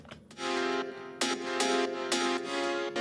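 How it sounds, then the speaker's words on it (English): A bright dance piano layered from an M1 plugin and Kontakt Gentleman plays rhythmic stabbed chords in a dance pop track, loud and alone with no voice. "very prominent dance piano now,"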